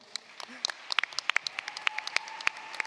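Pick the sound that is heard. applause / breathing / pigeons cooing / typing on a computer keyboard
applause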